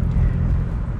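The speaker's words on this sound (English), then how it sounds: "my car's a little loud. That's what happens when you put an aftermarket exhaust on your car" A car fitted with a loud aftermarket exhaust, giving a deep, steady low rumble that sits close and fills the short moment alone.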